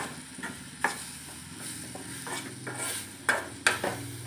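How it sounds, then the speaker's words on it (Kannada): Kushka rice dish with coriander frying in a pan, a soft steady sizzle broken by spoon scrapes and a few sharp metallic taps against the vessel, close and fairly quiet. "ಇದನ್ನು ಚೆನ್ನಾಗಿ ಫ್ರೈ ಮಾಡ್ಕೊಳ್ತೀನಿ"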